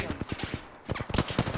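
Automatic gunfire rattles in rapid bursts of evenly spaced shots during an Apex Legends match, loud and close, with a short pause before a second volley.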